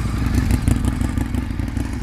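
Ducati 848 motorcycle engine idling or revving close by, with a deep, throbbing, rough twin-cylinder rumble and clattery mechanical texture, loud and steady for a couple of seconds with no talk.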